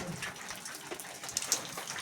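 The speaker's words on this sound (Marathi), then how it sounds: "हे बघा झिमझिम झिमझिम चालू आहे." Light drizzling rain outdoors in a rural village, a soft, continuous patter with scattered drops and small splashes, faint and close.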